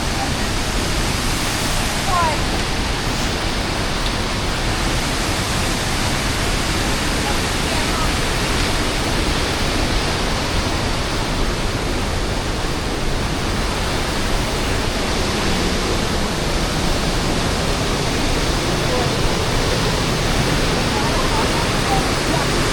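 A waterfall at Little Egypt, Tennessee roars steadily and loudly nearby, a constant broadband rush of falling water with no breaks.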